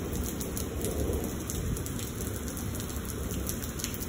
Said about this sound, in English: Let's hear the thunder.